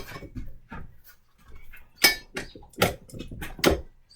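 Metal parts clink and clack as a paddle attachment is fitted onto a stand mixer in a home kitchen, a series of short sharp knocks and taps spaced unevenly, close by and fairly loud.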